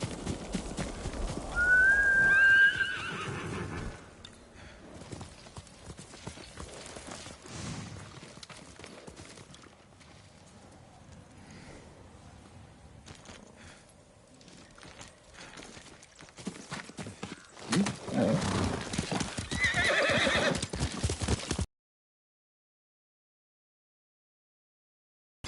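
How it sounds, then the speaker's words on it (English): Horse from the video game Ghost of Tsushima whinnies near the start, then hooves clip-clop in steady rhythm over ambient game sound, with a louder stretch of hoofbeats near the end before the sound cuts out. "Yuriko's horse. She can't be far."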